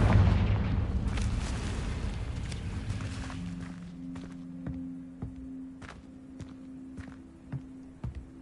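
A Confringo fire spell goes off in Hogwarts Legacy. It opens with a loud, broad blast that fades into a low rumbling tail, then sharp footstep-like impacts and small clicks follow at intervals.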